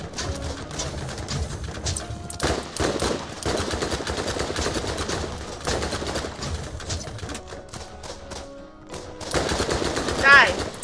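Sustained automatic gunfire in the video game Borderlands, with rapid bursts running almost without a break and a louder flurry near the end, while someone talks over the shooting.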